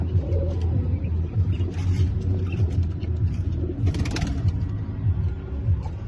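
Domestic pigeons in a loft where they are nesting with eggs and chicks, cooing in soft, repeated low rolling calls over a continuous background rumble, fairly close and moderate in volume.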